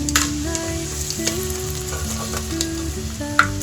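Whole spices, cinnamon, cloves, cardamom and a bay leaf, fry in hot oil with a busy, crackling sizzle, a few sharper pops rising over the steady frying, close and alone with no talk.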